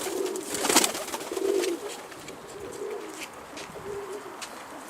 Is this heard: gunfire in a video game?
no